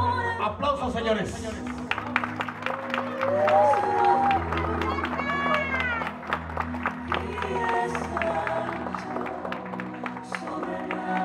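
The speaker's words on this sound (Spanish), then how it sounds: "Aplausos, aplausos." A quinceañera crowd applauds and cheers continuously, loud and dense clapping throughout, with an amplified announcer's voice speaking over the noise.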